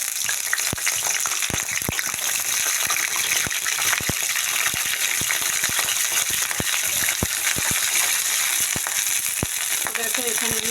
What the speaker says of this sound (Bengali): আমার তেলটা গরম হয়ে গেছে, এখানে আমি ফুলকপিগুলো দিয়ে দেব